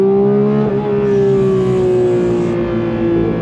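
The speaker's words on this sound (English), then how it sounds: "I need to do an on throttle from a dead stop." A 2022 Porsche 911 GT3 launching hard from a standstill, its engine howling loud and close as the pitch climbs steadily through a sustained, high-revving pull with no talking over it.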